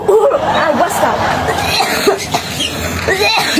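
Harsh, repeated coughing fits from a person said to have a cough after iced drinks and fried snacks at a street stall, loud and close, with talk and laughter around.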